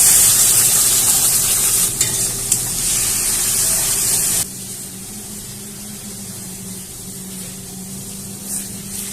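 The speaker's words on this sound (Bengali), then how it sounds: "পেঁয়াজটা ভাজা হয়ে গেছে এর মধ্যে গরম মশলা ফোড়ন দিয়ে দিলাম" Onions fry in hot oil as garam masala goes in for tempering: loud steady sizzling with spoon stirring, dropping to a quieter, softer crackle halfway through.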